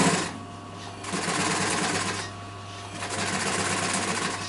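Sewing machine stitching a cushion, its needle clattering in a rapid steady rhythm through two long runs separated by a brief pause, close and fairly loud with no talking.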